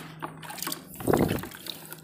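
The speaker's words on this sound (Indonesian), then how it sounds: "Siram nih kelengkengnya." Water is poured onto a longan plant at an office garden, a short close splash and trickle that swells in the middle of the pour and then fades to faint drips.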